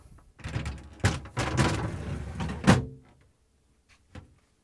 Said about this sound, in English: And the drawers goes back in.